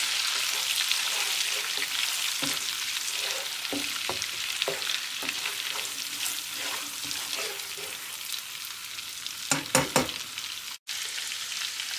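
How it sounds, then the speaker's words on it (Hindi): Ginger and garlic frying in a pan on a low flame, a steady close sizzle with occasional stirring clicks and scrapes against the pan. "30 सेकंड के लिए अदरक को और लहसुन को फ्राई करेंगे"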